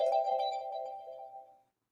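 A phone message notification chimes once, a single bright tone that rings out and fades over about a second and a half, faint and alone.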